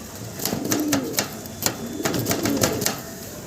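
A pair of blue barless fancy pigeons heard close by with soft low cooing, mixed with sharp tapping and clicking sounds scattered through the moment.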